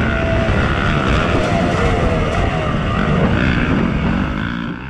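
A Yamaha YZ250FX dirt bike rides single track trail at Durhamtown, its engine droning steadily and loud throughout, close to the microphone with shifting revs.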